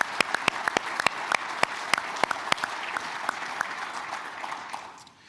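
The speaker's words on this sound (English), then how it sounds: "Please give yourselves a big round of applause." An audience at a county government state-of-the-county event gives a round of applause: steady clapping with sharp, distinct claps standing out, continuing evenly and thinning out near the end.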